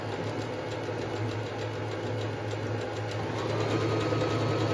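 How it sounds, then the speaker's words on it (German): A Pfaff smarter 140s sewing machine runs a triple zigzag stitch with a loud, close, steady mechanical whir and a rapid rhythmic needle chatter that holds constant and picks up slightly toward the end. "Jetzt drehen wir hier auf S1, also dann die Nähmaschine macht dreifache"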